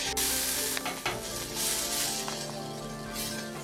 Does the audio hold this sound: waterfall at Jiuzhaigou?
no